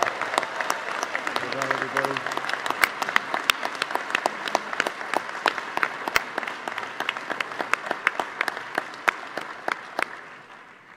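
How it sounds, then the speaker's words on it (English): Audience applause for participating regions and cities at a climate action summit, a sustained dense wave of clapping lasting about ten seconds before fading, with a brief voice speaking over it near the start. "Give them all a big round of applause."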